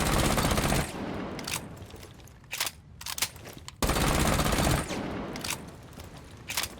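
Roni submachine gun fire in Rainbow Six Siege, two long, loud, rapid full-auto bursts at close range, each followed by a few shorter bursts and trailing shots.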